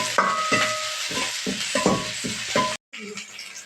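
Onion, curry leaves and green chilies fry in a pan, a close, steady sizzle broken by short stirring scrapes and light utensil knocks, with faint music underneath and a brief cut near the end.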